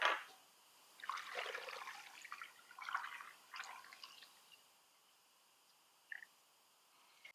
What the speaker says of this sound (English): now I'm going to go ahead and toss some water in here